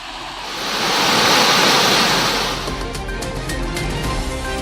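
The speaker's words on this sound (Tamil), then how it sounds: "மேகமலை அருவியில் 2வது நாளாக வெள்ளப்பெருக்கு." Meghamalai waterfall in flood, a loud roaring torrent of rushing water that swells, then eases slightly and continues as a heavy, steady rumble.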